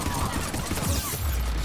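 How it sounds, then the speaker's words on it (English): Gunfire from the Mass Effect video game, continuous and dense across the clip, with a steady wash of broadband noise and low rumble and no clearly separated individual shots. "I hear the gunfire, but I don't see them."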